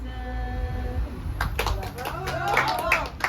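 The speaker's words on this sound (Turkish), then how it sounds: "Alkış" A few people clap in a garden during a basket-weaving session, sharp hand claps starting partway through, close and moderately loud, with voices talking over them.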